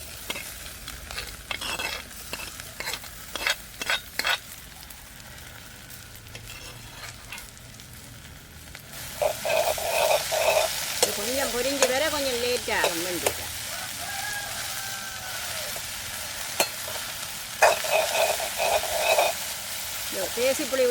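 Okra is stir-fried in a pan in a traditional village kitchen. A soft stirring clatter is followed by a sudden loud, continuous sizzle once the vegetable goes in, with occasional scraping and faint animal calls in the background.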